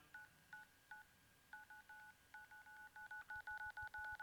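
Telephone keypad dialing tones for 911, a steady series of short, clear beeps, spaced apart at first and then coming quickly and evenly, alone and fairly loud.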